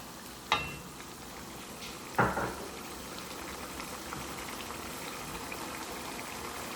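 Oil frying with minced keema in a pan: a steady soft sizzle runs throughout, with two sharp crackling bursts near the start as ingredients hit the hot oil.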